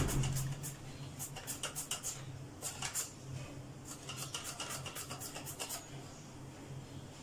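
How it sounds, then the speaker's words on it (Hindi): Papaya being sliced very thin with a handheld cutter, a quiet rapid series of soft scraping, rasping strokes in bursts against a steady low background hum. "इसको मैं कटर के साथ इस तरह स्लाइस काटती हूँ। ये देखें इतने बारीक बारीक स्लाइस में काट रही हूँ।"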